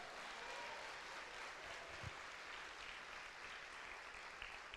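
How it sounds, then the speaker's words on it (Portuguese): A church congregation applauding during a sermon, giving a continuous, even wash of clapping that sounds faint and distant, with no voices over it. "Quem crê, aplaude e dá glória ao Senhor."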